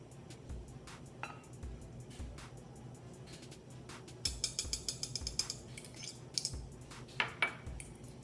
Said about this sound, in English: I got the baking powder and salt in here, so I'm gonna just sift it out